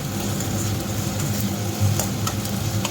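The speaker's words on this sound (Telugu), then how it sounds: "ఇప్పుడు మసాలా ఇది అల్లం వెల్లుల్లి పేస్ట్ వేసుకుందాం కదా బాగా కలుపుకుందాం" Ginger garlic paste being stirred into onions frying in a pan, giving a steady, close sizzle with soft scraping and stirring movements throughout and no talking.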